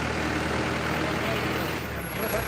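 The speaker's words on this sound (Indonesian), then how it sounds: "Ya, Pak supir lagi mengundurkan truk." A truck reversing on a worksite, its engine giving a loud, steady, close rumble with broadband road noise that barely changes across the short stretch.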